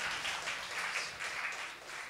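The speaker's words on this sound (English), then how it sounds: "Yeah, clap for yourselves." Church congregation applauding together, a steady close wash of many hands clapping at an even pace for about two seconds, with no talk over it.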